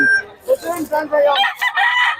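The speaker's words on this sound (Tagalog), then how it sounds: "Mura ng mga manok ni Boss Renz ngayon." Chickens cluck and a rooster crows loudly and nearby at a market, with overlapping fowl calls filling the whole stretch.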